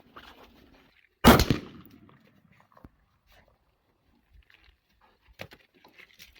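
A rifle with a Vortex Sonora 4-12x44 scope fires a single loud, close shot at a target, its crack trailing off into a brief echo, followed by faint scattered clicks and small noises.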